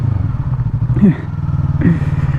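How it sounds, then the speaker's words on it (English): A 2020 Yamaha MT-03 naked motorcycle being ridden, its engine thrumming in a steady pulsing low drone with a couple of brief rev swells, heard close under a rider's speaking voice. "I'm not used to riding a naked bike"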